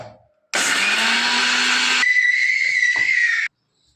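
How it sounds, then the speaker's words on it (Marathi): Mixer grinder pulverising chickpeas to powder in a kitchen: a loud, close, harsh whirring roar for about one and a half seconds, then a higher-pitched, steadier whine before the motor cuts off abruptly, no speech. "मिक्सरमध्ये चणे बारीक करून घेऊया"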